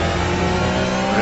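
Porsche race car engine at the 12 Hours of Sebring endurance race, a steady loud drone holding high revs throughout with no voices.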